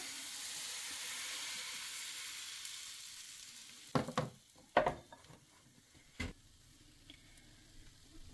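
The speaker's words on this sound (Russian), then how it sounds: "Выливаем первую порцию теста." Pancake batter poured into a hot frying pan greased with vegetable oil gives a steady sizzle, then a few sharp clinks and scrapes near the middle and end, close and fairly quiet.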